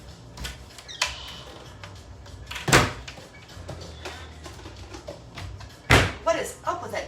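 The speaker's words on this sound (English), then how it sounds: "What is up with that damn door?" Sharp door bangs hit twice, loud and close, between lighter knocks and rattles in a kitchen, with a voice speaking in between.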